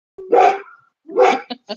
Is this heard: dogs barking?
yes